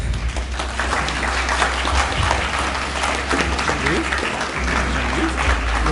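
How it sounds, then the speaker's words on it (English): An audience gives graduates a steady round of applause at a school graduation ceremony, dense continuous clapping from a large crowd throughout, with speech faintly underneath. "One last round of applause for our graduates."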